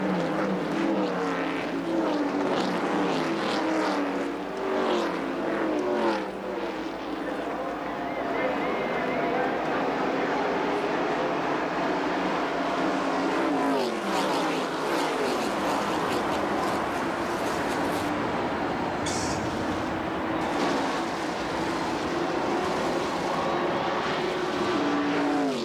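Dense pack of NASCAR stock cars roaring at the start of the 1990 Daytona 500, loud sustained engine drone with rising and falling passes and a big crowd, continuous throughout.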